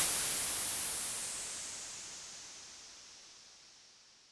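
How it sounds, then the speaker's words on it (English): Synthesized white noise from an ES1 synth, filter cutoff swept open and then closed, starts bright and hissy and steadily fades darker and quieter over about four seconds. "So we can hear the white noise decreasing in volume over time"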